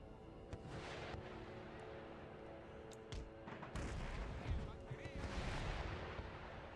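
Musket volleys from troops in Empire: Total War, sounding as scattered, muffled cracks and booms of massed fire over a low rumbling battlefield din, heard faintly and somewhat distant.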